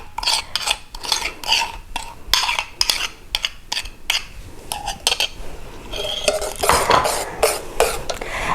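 A spoon or whisk works creme brulee custard and mandarin curd together in a bowl, making rhythmic clinks and scrapes against the sides with brief pauses between strokes.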